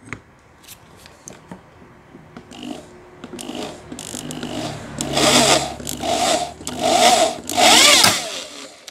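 A drill boring through the back of a sewing machine lamp cover: scattered clicks and handling noise, then rising bursts of harsh, grinding drilling that come in close pulses and grow louder toward the end, with no speech.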